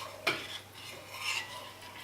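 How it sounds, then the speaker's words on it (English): A spoon scrapes and clinks against a pot of thickening creamy clam chowder, with one sharp tap followed by soft, faint stirring strokes, close and quiet with no talking. "And let's stir this some up."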